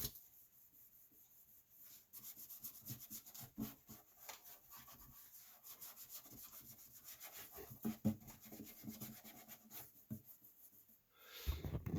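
Sandpaper rubbing back and forth over lacquered guitar body finish, soft at first and then in rougher, denser strokes, close and quiet with no talk.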